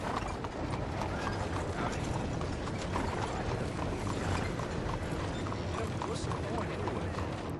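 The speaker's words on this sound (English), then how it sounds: "Let's ride this horse in." Horse hooves clip-clop at a steady, rhythmic pace while riding into a stable in the video game Red Dead Redemption 2, close and continuous over busy game ambience.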